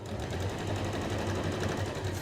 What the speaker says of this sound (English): Straight stitch to the end and lock again.